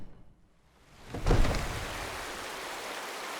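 Rain in the Skyrim Special Edition video game swells in after a quiet moment into a steady, full hiss of rainfall that carries on evenly to the end.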